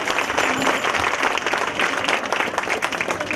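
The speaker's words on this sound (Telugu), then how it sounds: "ఈ నిలబడ్డ వాళ్ళందరికీ చప్పట్లు కొట్టండి ఒకసారి." A crowd at a Ganesh festival claps in dense, continuous applause, loud and close, sustained throughout the short stretch.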